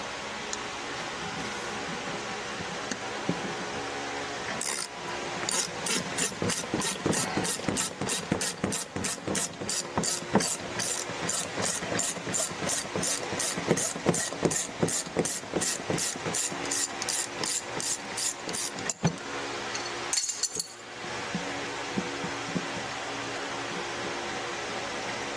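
A wrench ratchets steadily on a 17 mm bolt while a Bilstein shock is removed from a 2006 GMC Sierra 2500 during a 6-inch lift install, a long run of rapid close clicks that stops briefly, then resumes.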